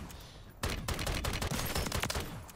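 Rapid gunfire from a weapon in Call of Duty MW3 Zombies erupts after a brief lull, a dense stream of punchy shots echoing close and loud for about two seconds, with no speech over it.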